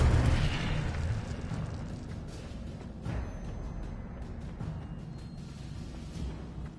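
Incendio fire spell cast in Hogwarts Legacy: a low whooshing burst of flame at the start that settles into a softer crackling rumble, with a few faint pops afterward.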